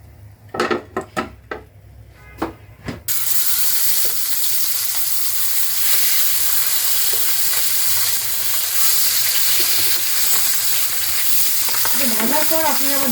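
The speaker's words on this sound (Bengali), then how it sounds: "সরিষার তেল দিয়ে মাছটা ভাজবো," Fish frying in mustard oil in a home kitchen gives off a loud, steady sizzle that fills the clip after a few sharp knocks and clatters in the opening seconds.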